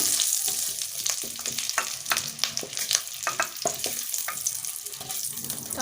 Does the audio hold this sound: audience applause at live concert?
no